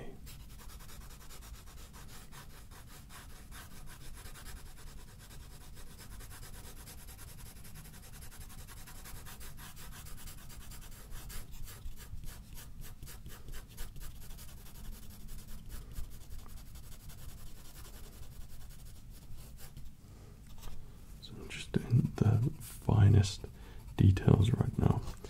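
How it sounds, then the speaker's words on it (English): A pencil sketching a portrait on paper makes soft, close scratchy strokes and rubbing in quick bursts, quiet and intimate, with louder handling noise toward the end. "you could probably hear the pencil making those little tiny strokes as it glides along the paper"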